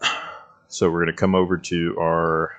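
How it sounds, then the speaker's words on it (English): A hydraulic PTU (power transfer unit) on a Citation X in a flight simulator game gives a dog-like barking burst early on, then someone talks steadily over it and the sound is lost. "that dog barking in the background, it's not my dog. That's the PTU."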